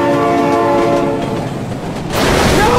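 A loud sustained train horn blares in the driving game BeamNG.drive, a steady chord lasting about two seconds before giving way to a rumbling rush of noise as the train arrives.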